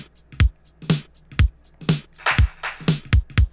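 A simple programmed drum pattern built in FL Studio alternates deep kicks with crisp snares and clap-like hits in a steady indie pop groove. It is played alone, with no voices over it.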